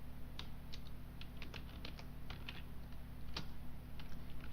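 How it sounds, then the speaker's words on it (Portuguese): Someone types text on a computer keyboard in a word processor, with light, irregular key clicks coming in quick bursts over a steady low hum, quiet and close. "digitando um texto."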